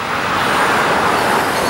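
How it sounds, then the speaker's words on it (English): A truck pulling a trailer rolls past on a roadside about fifteen feet away, a loud, steady broadband road rumble filling the whole moment with no talk. "It was actually a truck with a trailer."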